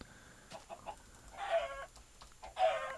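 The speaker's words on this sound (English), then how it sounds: "Oh, so many chicken right here." Chickens clucking in a farming video game, two short bursts of clucks about a second apart, faint and alone without talk.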